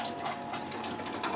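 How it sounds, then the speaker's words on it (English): Water is pumped from a jug through a switch-operated tap in a tiny off-grid cabin, giving a steady, close running-water rush with a soft pump hum for the whole stretch and no talking. "it takes the water from the jug down here, and you can hear the water, and the water's running there."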